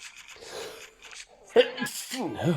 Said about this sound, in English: I'm sneezing like a warthog over here